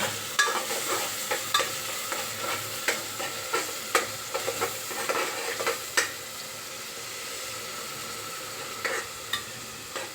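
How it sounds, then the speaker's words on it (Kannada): Onion and tomato tempering frying in a pan for palak pulao, a steady sizzle under repeated rhythmic scraping stirs of a spoon, close and with no voices. "ಉಳ್ಳಾಗಡ್ಡಿ ಟೊಮೆಟೊ ಹಚ್ಕೊಂಡು ಸಣ್ಣ ಒಂದು ಒಗ್ಗರಣೆ ಕೊಟ್ಟು ಪಲಾವ್ ಮಾಡೋಕೆ ರೆಡಿ ಮಾಡ್ಬೇಕ್ರಿ"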